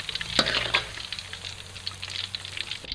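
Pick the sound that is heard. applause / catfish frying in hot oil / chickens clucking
catfish frying in hot oil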